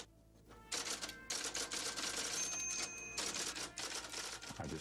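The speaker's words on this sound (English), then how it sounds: "put it in the typewriter and wrote a little introductory chapter" Quiet, slightly distant typewriter typing, with bursts of rapid key strikes and brief pauses between runs, the clacks blending into a soft continuous patter.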